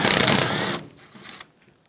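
Ratchet working a 13 mm bolt loose on a 2007-2014 Chevrolet Silverado 2500 HD tailgate: a quick burst of close, loud clicking ratchet strokes, then fainter metallic handling and a short squeak, fading out.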